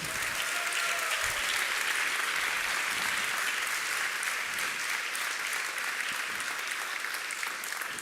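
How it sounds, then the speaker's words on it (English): A ceremony audience applauds award winners at the DesignEuropa 2024 design awards, with continuous, even clapping that stays loud and full for several seconds and no speech over it. "a round of applause to the winners"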